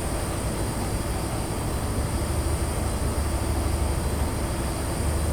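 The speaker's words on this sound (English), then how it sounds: "I like this train." A train running in Train Simulator 2016 on the Western Mainlines route gives a steady, loud rail rumble that holds without a break for the whole stretch.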